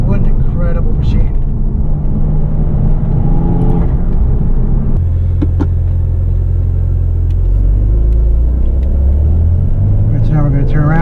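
Porsche 992 911 driving in Sport Plus with its active exhaust open, giving a steady, loud low rumble that deepens and swells in the second half, with brief voices near the start and end.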